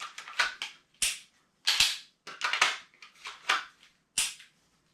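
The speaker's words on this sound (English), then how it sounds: "my dot's on the target, and I'm pulling the trigger" A Smith & Wesson pistol in dry-fire practice gives a series of sharp, dry mechanical clicks and snaps, about eight short bursts spaced unevenly, close and moderately quiet, with no talking.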